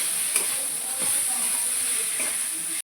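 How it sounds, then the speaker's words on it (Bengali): Ground spices including Kashmiri chilli, cumin powder, salt and turmeric sizzle and fry in a pan for bhetki fish bone chorchori, a steady close hiss with faint scraping stirs. "এবার সব মশলাগুলোকে ভালো মতো কষিয়ে নেব।"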